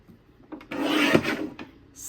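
A paper trimmer blade slides across a sheet of card once, a short scraping rasp lasting about a second, close and distinct in a quiet room.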